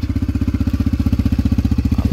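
A 2022 Yamaha TTR-125 with stock exhaust idles close by, its small single-cylinder engine putting out a loud, even, rapid thumping pulse with nothing else heard.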